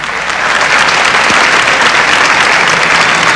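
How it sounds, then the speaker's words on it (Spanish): Loud, steady applause from a television studio audience during a comedy show, filling the whole stretch evenly with no voices standing out. "Fuerte el aplauso a Betty Pino."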